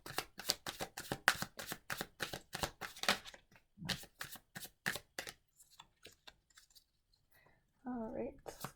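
Tarot cards shuffled by hand in quick, rapid riffles and taps, a long run of close crisp flicks that slows into scattered clicks, followed by a brief spoken remark.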